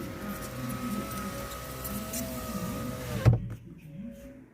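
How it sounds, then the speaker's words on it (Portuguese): Chevrolet Meriva power windows closing, a steady electric motor whine running for about three seconds before stopping with a firm thunk, followed by quiet cabin ambience. "Vamos fechar os vidros aqui, ó."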